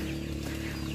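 Chickens at feeding time give low, soft clucks, faint and close, over a steady hum in the background.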